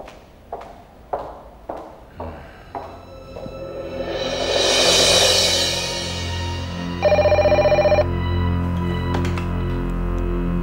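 A telephone rings in an office setting with a steady electronic ring lasting about a second, after a run of footsteps and a swelling wash of background noise; no one speaks.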